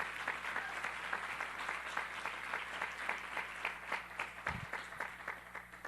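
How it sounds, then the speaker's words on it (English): An audience at a Hispanic leadership summit applauds in a sustained, even patter of many hands, moderately distant and steady throughout, with a single low thump partway through. "let's give it a round of applause for the data that Nielsen and others are doing that"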